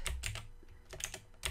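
Keys are pressed on a computer keyboard as a shortcut is entered, giving a handful of sharp, close clicks in two small clusters with a short pause between, faint overall and with no talking.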